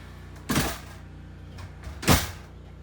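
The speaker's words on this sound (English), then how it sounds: "So I'm gonna go in here and actually close the door" The door of a camper shuts twice, two distinct close thuds about a second and a half apart over a low steady generator hum.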